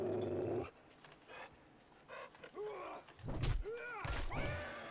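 Dog growling and snarling in the survival game 7 Days To Die, with short bursts, yelps and thuds of a close fight amid quieter gaps.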